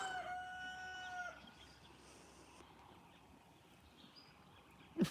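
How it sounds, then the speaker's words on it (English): A rooster crows once in the distance, then fades into quiet outdoor background with a brief knock at the end. "Crazy rooster, what's he doing?"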